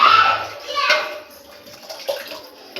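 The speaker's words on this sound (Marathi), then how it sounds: "चिकन उकडलेलं जे आहे पाणी ते घालणार आहे" Boiled chicken stock poured into a pan for a Kolhapuri tambda rassa curry, a short splashing pour at the start that fades into quieter liquid sounds, with a voice speaking over it.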